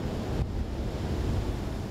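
Strong gusts of wind buffet the microphone while waves break steadily on a seaside shore as a typhoon approaches, making a continuous, loud roar with no voices.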